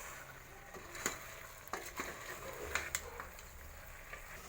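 A utensil scrapes and clacks against a pan in irregular strokes, stirring chicken curry with chilli powder over a low, steady frying sizzle, fairly quiet, with no talking.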